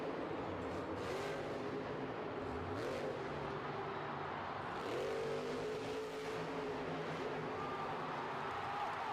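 A truck engine revs hard during a stunt jump, a loud, continuous roar that climbs in pitch about halfway through and holds steady to the end.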